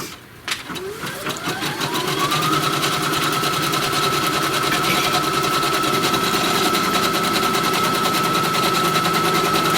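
A sewing machine stitches a placement line for quilt batting, running steadily and loudly with a rapid rhythmic clatter after a brief start-up whine that rises in pitch, continuing unbroken to the end.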